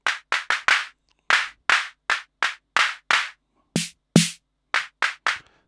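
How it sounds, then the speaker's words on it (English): Clap sound of an Arturia Drumbrute Impact drum machine, sharp dry hits fired in rapid bursts and spaced groups, about sixteen claps with two heavier ones, loud and close with no talking. "I love everything except for the clap"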